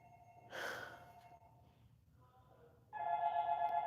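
A phone rings during a live shopping stream, two bursts of electronic ringing with a breathy rush at the start, fairly close and moderately loud, with no talking over it.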